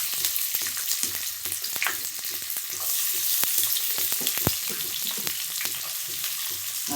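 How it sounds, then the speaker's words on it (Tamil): Chopped onions frying in oil, a steady close sizzle with occasional clicks and scrapes of stirring, no voices. "இப்போ நறுக்கி வச்ச வெங்காயத்தை போட்டுக்கலாம்."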